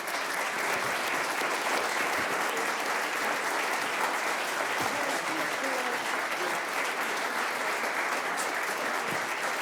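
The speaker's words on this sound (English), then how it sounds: "I want to do a round of applause." Sustained applause from an audience at a climate council meeting on storm resilience, dense and steady clapping that fills the room for the whole stretch.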